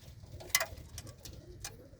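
Pigeons in a loft give soft, repeated cooing close by, with a few light clicks and rustles over a low background rumble.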